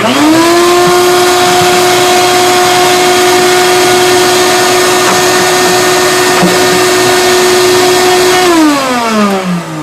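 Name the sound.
powerful suction device running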